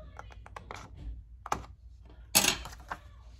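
Scissors snip a sublimation transfer print to trim it closer for a fleece blanket, giving a quick series of short, crisp clicks with a louder snip near the end, close by and without talk.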